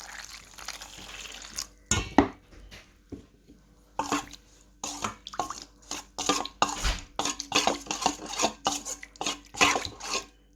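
A rava and urad dal batter is stirred with warm water in a bowl, a spoon clinking and scraping against the sides in irregular bursts with soft wet sloshing, close by.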